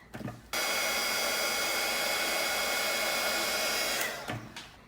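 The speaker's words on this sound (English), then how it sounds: "let's heat it so there's not weird embossing" A heat gun blows a loud, steady roar for about three and a half seconds as it melts embossing powder on die-cut shapes, then switches off.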